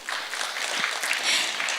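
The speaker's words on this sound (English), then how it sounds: "another round of applause for them, please" Conference attendees clap for sponsor Burker Hughes, a brief burst of fairly close, busy applause that holds steady without talk over it.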